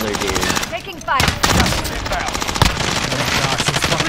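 Rapid automatic gunfire in Call of Duty Plunder mode, dense loud bursts of machine-gun fire with several sharper single shots, continuous throughout and close, with voices talking over it.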